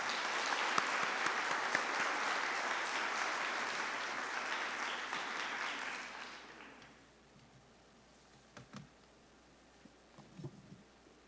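An audience of parents and schoolgirls applauding at a school gathering, a full burst of clapping that holds for about six seconds, then fades to scattered claps and quiet.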